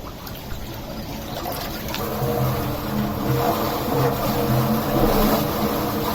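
Water rushes and spills steadily through a canal lock on the River Soar, heard from a narrowboat, a loud continuous close-up cascade that swells slightly as it goes on.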